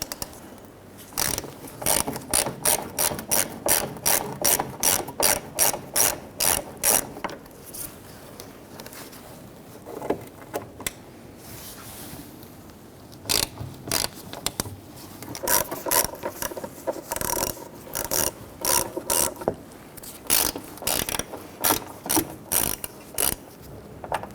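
A ratchet loosens T15 Torx screws on the cowl of a 1997-2006 Jeep Wrangler, with fast runs of crisp clicking repeated in several bursts and short pauses between them, close and clear.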